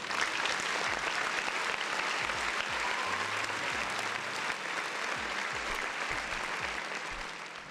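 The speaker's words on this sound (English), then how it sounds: "One more round of applause for the folks in the chat." Sustained crowd applause on a livestream show, dense and even throughout, with a low voice murmuring briefly underneath before the clapping tapers slightly at the end.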